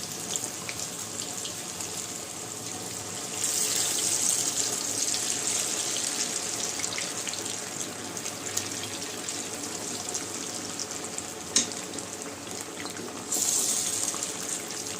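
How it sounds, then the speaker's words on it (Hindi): Chicken pieces deep-frying in hot oil over a high flame for chicken 65 biryani, giving a steady close sizzling hiss that swells louder in bursts as more pieces go in. "अब एक एक करके ये चिकन के पीस डाल दीजिए। हाई फ्लेम पे तलिए इसको"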